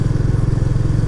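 A Royal Enfield Classic 350 motorcycle rides along with a steady, low, rhythmic thumping engine note, loud and close, holding an even pace throughout.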